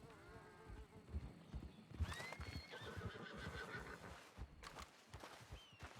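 A horse in the Red Dead Redemption 2 video game whinnies loudly with rising and falling squeals over a steady clip-clop of hooves, the calls repeating across the stretch.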